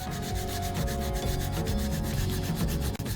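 Sandpaper rubbed with heavy pressure over a scuffed leather shoe, a close, loud, continuous rasping in quick back-and-forth strokes, with no talking.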